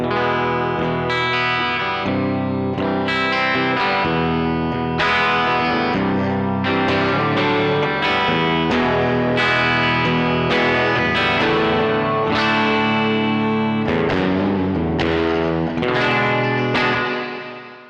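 An electric guitar runs through a reverb effect pedal, playing a sequence of ringing chords and notes that bloom and linger in a bright, pronounced wash with no talking.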